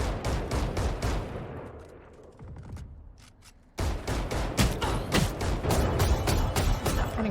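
Heavy exchanges of Guardian rifle fire in a Valorant match: rapid sharp shots at first, a brief quieter lull, then renewed dense bursts of overlapping gunfire.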